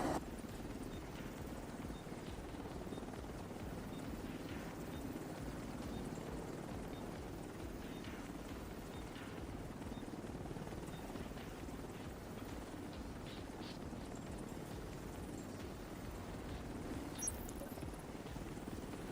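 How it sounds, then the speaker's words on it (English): An extraction helicopter in The Division flies off, its rotor a steady, faint, continuous low drone and wash that holds evenly throughout without fading much. "Extraction done. Helo is headed back."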